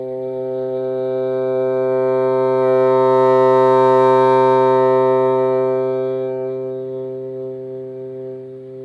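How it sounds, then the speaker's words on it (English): A bassoon holds one long tone on a newly made, very strong reed, swelling smoothly from soft to loud and fading back to soft, rich and steady with a full, somewhat hollow timbre. "I like to do a long tone, starting soft, getting loud, and then soft again, to see about how easy the reed is to control"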